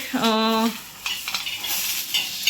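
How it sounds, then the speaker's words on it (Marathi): Peanuts and chilies dry-roast in a pan: a brief tonal squeal opens, then soft scraping stirs and light rattling follow close by. "शेंगदाणे मिरची भाजून घेत आहे"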